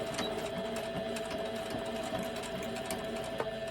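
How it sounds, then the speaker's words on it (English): Close, continuous whir and rhythmic needle thumping of a sewing machine stitching through thick layers of fabric scraps for a lip balm holder, steady and unbroken. "I do not like this sewing machine. It's always playing up every single project."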